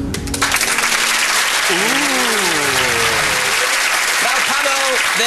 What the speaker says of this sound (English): Sound of the audience applauding